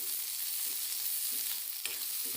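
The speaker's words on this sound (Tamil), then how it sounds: "1 வெங்காயத்தை நான் சின்னதாக கட் பண்ணி வச்சுக்கிறேங்க. அதையும் போட்டுடலாங்க. போட்டு நம்ம வதக்கி கொடுக்கலாம்." Chopped onion and garlic sautéing in hot oil in a pan, a steady broadband sizzle throughout with a few soft stirring scrapes, close and even.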